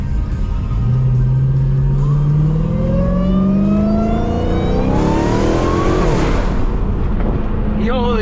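Dodge Charger SRT Hellcat engine revving hard from inside the cabin, with rising, repeated climbs in pitch as it accelerates, loud and close, and a brief voice near the end.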